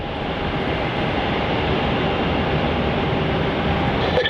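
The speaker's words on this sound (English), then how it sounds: "our next departure now of runway 27 is NZ264, the A320-200 Neo heading off to Queenstown" An Airbus A320-200 Neo jet departing runway 27 at Melbourne Airport, a loud, steady, broadband engine roar that holds constant throughout with no talking.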